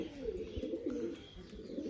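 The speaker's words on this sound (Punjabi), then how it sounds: "ਕਬੂਤਰ ਤਾਂ ਆ ਗਏ ਬਈ ਬਾਹਰ" Domestic pigeons coo close by in soft, repeated throaty murmurs that overlap one another in a low rolling rhythm, quiet and continuous for the whole stretch, with no talking.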